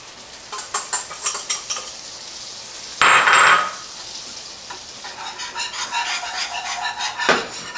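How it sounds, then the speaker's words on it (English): Butter melts and flour is stirred in for a roux for turkey giblet gravy. A metal utensil clinks against the pan and steady sizzling runs underneath, with a louder scraping burst midway. "our butter's starting to melt. We're going to get our flour in."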